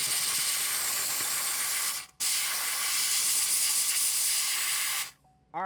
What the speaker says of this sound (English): Over here needs a little steam action.